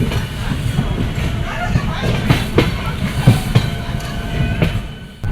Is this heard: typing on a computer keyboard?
no